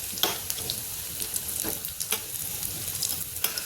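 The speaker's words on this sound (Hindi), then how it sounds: "मिर्च भी भून लेंगे।" Green chillies frying in hot oil in a pan for a tadka, a steady close sizzle with crackling bursts and the odd stir, no talking.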